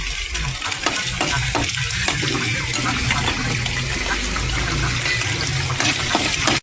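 Onion and garlic sautéing in hot oil for Filipino pork adobo, a loud continuous sizzle with scraping stir strokes of a spatula against the pan throughout.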